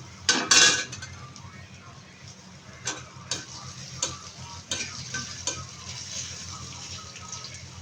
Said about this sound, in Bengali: তেলটা গরম হয়ে গেলে দিয়ে দিব রসুন কুচি রসুনটা লাল হয়ে গেলে দিয়ে দিব আদা কুচি